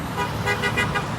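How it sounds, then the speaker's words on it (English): A passing car on a street in Springfield, Pennsylvania gives a short honk of its horn over the close rumble of road traffic. "There's a honk of support."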